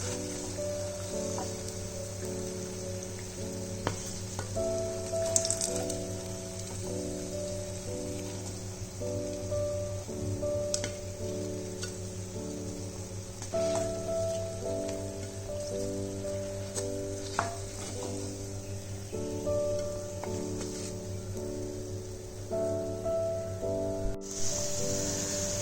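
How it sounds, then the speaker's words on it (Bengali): Dahi vada lentil dumplings deep frying in hot oil, a continuous close sizzle with fine bubbling crackle that carries on steadily while background music plays. "দই বড়াগুলোকে ভালো করে হালকা গোল্ডেন ব্রাউন হওয়া পর্যন্ত ডিপ ফ্রাই করব আমরা।"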